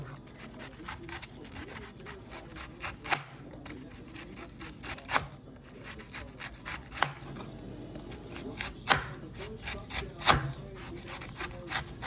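Vegetables for coleslaw are chopped on a wooden board in a home kitchen, quick rhythmic knife taps and rubbing strokes repeating throughout at moderate volume.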